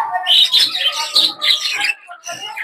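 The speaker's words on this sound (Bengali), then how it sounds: "এটা হচ্ছে মেল পাখিটা" Caged pet budgerigars on a cold winter day, chirping loudly and rapidly up close in dense, overlapping high twittering bursts with brief pauses.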